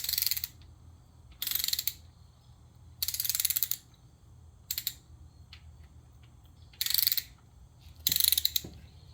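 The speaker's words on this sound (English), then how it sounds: "When the torque wrench reaches 10 foot-pounds, it clicks." A torque wrench clicks while bolts are torqued on a Mopar 318 engine, sounding as six short, sharp ratcheting bursts spaced a second or two apart over a quiet background.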